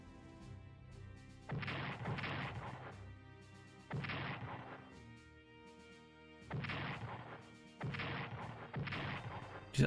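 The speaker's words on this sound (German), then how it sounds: "Diese Artillerie schießt unseren Panzer zusammen." Artillery fire in the Strategic Command War in Europe strategy game: four loud, sustained bursts of repeated gun booms, each lasting about a second or more, separated by quieter pauses with a low background hum, no talking.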